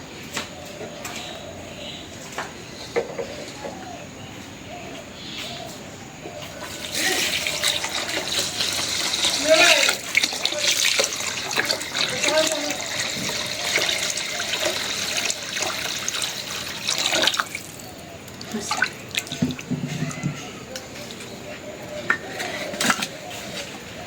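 Water runs and splashes into a pot for several seconds, with swishing and light clinks of rice being rinsed, then quieter handling sounds.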